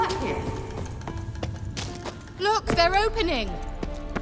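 Horse hooves clip-clop at a steady trot in The Witcher 3, the regular knocks running beneath a voice and a short burst of chirpy, warbling game sounds.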